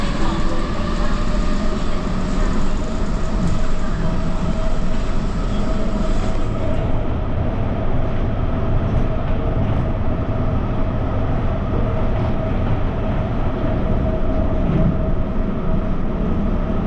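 A fast airport terminal metro train in Thailand running at speed, heard as a loud, continuous rumble and rushing roar from inside the car that stays steady throughout, with only faint voices under the noise.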